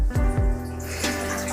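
Water gushes steadily from a household tap into a sink, a close, continuous splashing rush with a couple of brief low thumps near the start.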